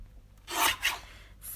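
Paper being trimmed for a craft layout, a short rasping cut of two quick strokes and a brief scrape, close and fairly quiet with no talking.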